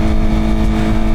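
A Suzuki GSX-R 600 sport bike engine revs loudly and steadily up close, giving a continuous dense roar with no pauses.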